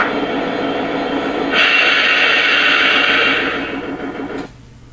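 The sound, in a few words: Lionel SD70ACe model diesel locomotive shutdown sound effect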